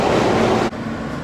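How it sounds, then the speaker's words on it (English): A train passes close by, filling the space with a steady, loud broadband rumble that dips briefly partway through and then carries on. "Yep, this is my train."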